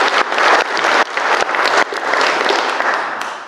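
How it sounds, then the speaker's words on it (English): Wedding guests give the wedding party a loud round of applause, dense close clapping from a full room that swells and dips briefly before continuing. "A round of applause for them all."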